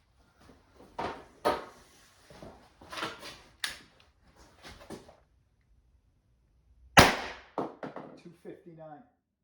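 Nine shots from a CO2 airsoft pistol fed by a dual 12g CO2 magazine fire as sharp, separate cracks at an uneven pace, one much louder than the rest, with brief quiet gaps between them.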